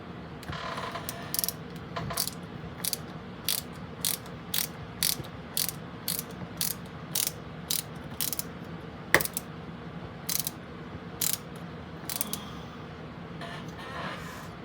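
A screwdriver drives screws into a Knight Rider model car, giving a regular run of short, sharp ratcheting clicks in quick bursts spaced about every second, close and fairly quiet against a soft background hum.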